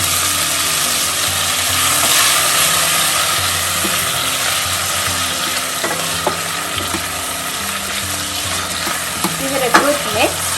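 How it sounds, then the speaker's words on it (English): Diced red chili and other ingredients sizzle steadily in a hot pan while a spoon stirs them through, with occasional scraping clinks near the end; no talking, the frying hiss continuous and close. "give it a good mix."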